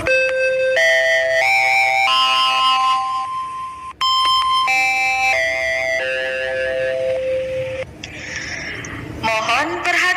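An electronic school bell in Java plays a loud, steady chime melody of sustained tones marking the start of class, running almost continuously with a short break and faint background noise near the end.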